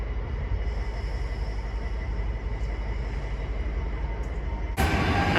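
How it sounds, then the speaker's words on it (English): An LNER passenger train service from Newark Northgate to London King's Cross pulls out of Peterborough station, a steady low rumble of rolling stock heard at a distance, with a sharp bright burst of noise near the end. "LNER service from Newark Northgate to London King's Cross is also heading out"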